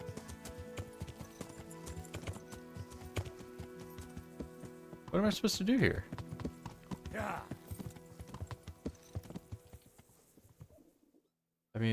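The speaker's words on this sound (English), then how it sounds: "If he's just gonna like ride around back and forth on his horse" Steady clip-clop of a horse's hooves as a rider goes back and forth in a video game, rhythmic and moderately close, with a louder burst midway and game music tones throughout; a person talks briefly over it.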